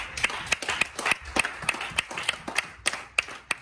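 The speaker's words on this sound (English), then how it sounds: "Give him a hand clap." A small church congregation claps by hand, in quick, uneven bursts of sharp claps, close by and with no voices.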